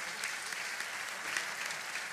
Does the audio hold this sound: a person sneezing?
no